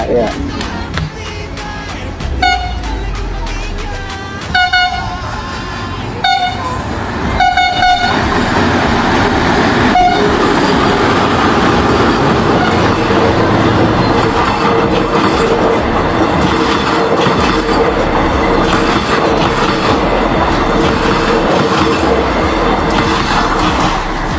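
An Indonesian-built train rumbles past close by in the Philippines, wheels clattering in a steady rhythm, with a few sharp horn blasts near the start over the loud, continuous roar.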